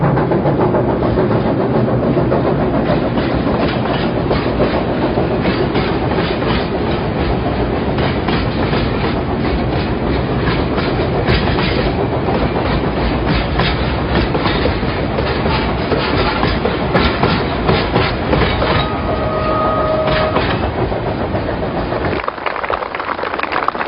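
Train runs along the Happiness Railway through nomad pastures, heard from inside as a loud, continuous rumble with rhythmic clickety-clack of the wheels throughout.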